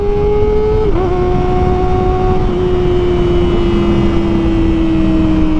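A Kawasaki ZX25R inline-four sportbike engine holds a loud, high-pitched, steady howl, with a brief dip in pitch near the start before it settles into a sustained note. No one speaks.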